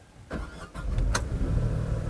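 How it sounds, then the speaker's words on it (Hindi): A Tata Nexon's 1.2-litre three-cylinder engine cranks briefly and catches, then settles into a steady, close idle with a low rumble. "अब मैं एक बार इंजन आपको स्टार्ट करके भी साउंड सुना देता हूँ"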